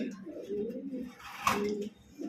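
Fantail (lakkha) pigeons cooing in a pigeon collection, soft low repeated coos close by, with a brief louder burst partway through.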